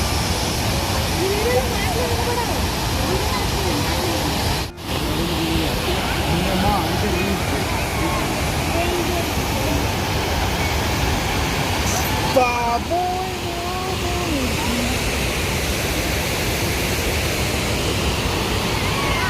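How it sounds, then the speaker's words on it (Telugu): Pykara waterfalls near Ooty roar as a steady, loud broadband rush of falling water, continuous throughout with faint voices of visitors murmuring in the background. "ఇవి పైకారా వాటర్ ఫాల్స్."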